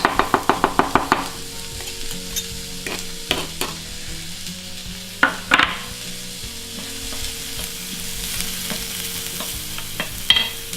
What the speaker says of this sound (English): in the time when the onions are frying